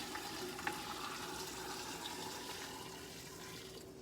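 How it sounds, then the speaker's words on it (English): Hot melted red candy syrup is poured over cucumber rings in a steady, soft liquid splashing stream that keeps going for several seconds, close but quiet. "Now we're going to just pour this over these cucumbers."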